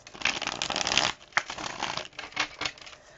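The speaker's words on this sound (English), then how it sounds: "let me do one more shuffle" Tarot cards are shuffled in quick riffling bursts, crisp and close, with a short pause between rounds.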